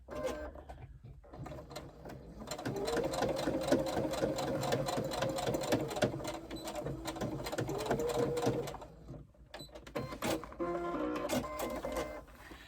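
A sewing machine stitches a box corner seam in a rapid, continuous mechanical whir close up, then stops and runs again in shorter bursts.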